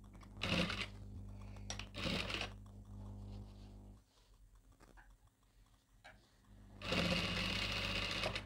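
A sewing machine stitches folded underskirt fabric in two short close bursts near the start, then a quieter handling pause, then another sustained run of rapid stitching.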